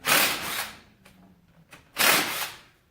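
Impact wrench loosening bolts on a 2012 Polaris Sportsman 500 ATV engine: two loud, close bursts of rattling power-tool noise about a second each, separated by a quieter pause with faint shop sounds.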